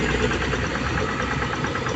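A hand tractor engine chugs steadily as it pulls a wooden levelling board across freshly hoed soil, a continuous mid-pitched idle-like drone with a knocking pulse, fairly close and with no voices.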